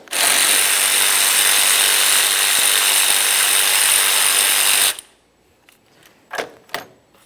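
A ratchet spins loose a washer reservoir mounting nut on a 2017-2024 GMC Acadia, giving a loud, dense, continuous whirring rattle for about five seconds before stopping abruptly, then a couple of faint clanks close by.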